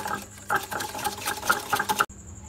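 Oil and icing sugar whisked together in a bowl, with steady scraping and stirring strokes in a brisk repeating rhythm, close and moderately loud, ending with a sudden cutoff and a faint high tone.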